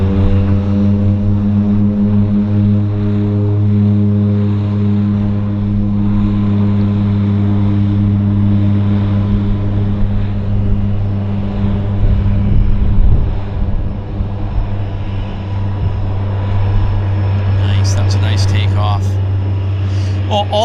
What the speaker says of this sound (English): Well, all Twin Otter takeoffs are nice takeoffs, right?